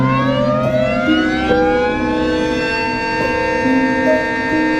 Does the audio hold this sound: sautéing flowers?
no